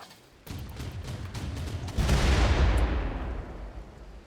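A tank fires in the video game Rimworld during combat against a Mega Sloth: a sudden burst of booming gunfire, then a second, heavier blast that rolls out into a long, fading rumble.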